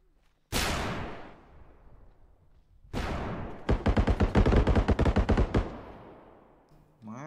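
Loud bursts of game gunfire: two heavy single blasts with long decaying tails, then a rapid rattling volley of about a dozen shots, near and punchy.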